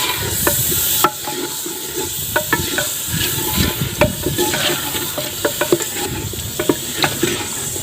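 Goat mutton is added to hot masala and stirred as it fries, giving a steady sizzle with scattered sharp clicks and scrapes of a spoon against the pan, close and fairly loud throughout with no talking.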